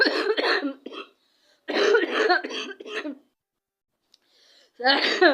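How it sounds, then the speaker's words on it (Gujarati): One person coughs hard several times in close, loud bursts separated by short pauses, with a faint breath or murmur in between. "ઉધરસ બહુ થઈ ગઈ છે"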